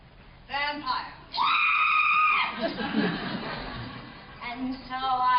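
A woman lets out loud, sustained screams in a stage comedy scene, with high piercing bursts repeated several times, broken by brief breathy gaps and a laughing squeal near the end.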